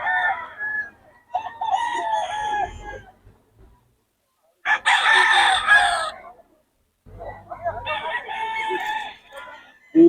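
Roosters crow in loud bursts with clucking between them, close by and with no talking, ending in a brief sharp sound, at a market in Bocaue.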